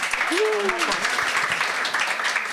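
Audience clapping at a talk on Dominican identity, a moderate patter of hands that continues throughout, while a voice speaks briefly near the start.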